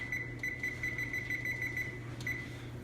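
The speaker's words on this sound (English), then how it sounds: "I'm gonna set my timer for 13 minutes." A kitchen timer beeps in a steady, rapid series of short, evenly spaced tones, then pauses briefly before one more beep, sounding close and moderately loud over a low steady hum in a home kitchen.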